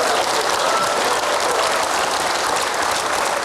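A studio audience on an Indonesian talk show claps together in loud, sustained, dense applause that fills the whole stretch without a break.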